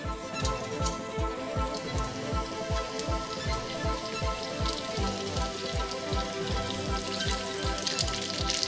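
Steady sizzling and crackling of spaghetti aglio e olio frying in a pan, with a rapid regular tapping or stirring rhythm throughout, close and moderately loud.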